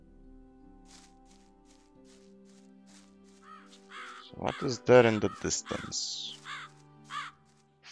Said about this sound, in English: Hearing a lot of crows.